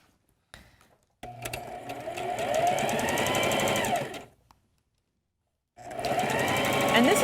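Sewing machine stitching pieces of quilting fabric together, its needle chattering in two steady runs of a few seconds each, separated by a short quiet pause, close and clear.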